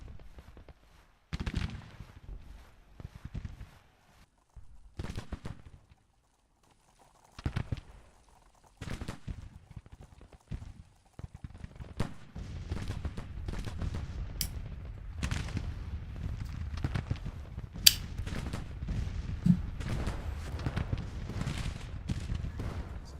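Rifle gunfire crackles through a battle in the war game GT:CW, first as sparse, scattered shots, then thickening into sustained, dense volleys of mixed fire that continue to the end.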